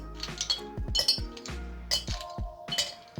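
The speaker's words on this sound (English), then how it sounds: "Add few cubes of ice." Ice cubes clink one after another into a glass prepared for sweetened iced tea, bright close glassy knocks in an uneven rhythm with no voices.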